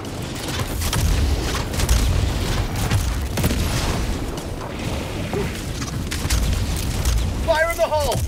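Grenade blast in Helldivers 2 amid continuous battle noise, with rumbling low booms and scattered bursts throughout, and brief voice-like chirps near the end.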